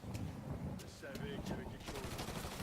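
Machine gun fire in the video game Mafia 3, a continuous rattling burst of rapid shots running the whole stretch at moderate level, with faint voice-like tones mixed in.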